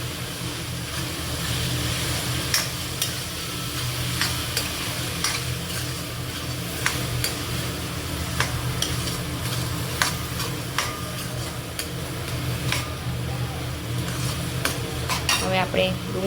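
Chopped onion with a pinch of asafoetida sizzles steadily in a pan for paneer, corn and capsicum curry, a continuous fry hiss with scattered spoon clinks and stirring scrapes against the metal, fairly close and without talk.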